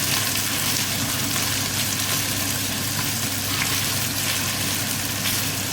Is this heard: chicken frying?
yes